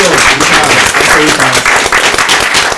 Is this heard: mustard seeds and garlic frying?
no